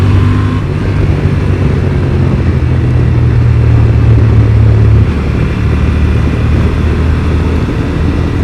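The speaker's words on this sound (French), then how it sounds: "La sonorité du moteur est dingue." A Honda Transalp 750 motorcycle engine runs steadily close by, a loud continuous low rumble with a droning tone that holds through the first five seconds before settling to a rougher idle-like throb.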